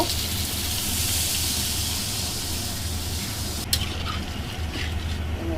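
Curry broth poured into a pan of hilsa fish makes a loud continuous rushing, hissing splash that runs steadily throughout with a small clink near the end, close up.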